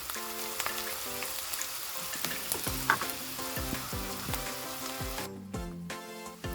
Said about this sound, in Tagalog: Lagyan natin ng konting salt ang ating onion habang ginigisa natin